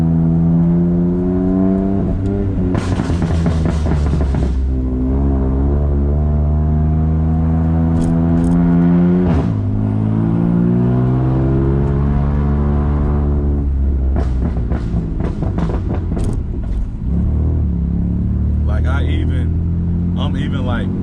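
A BMW M3 fitted with VRSF downpipes revs loudly and repeatedly, the engine note rising and falling in strong sweeps, with crackling exhaust pops between revs, close and dominant.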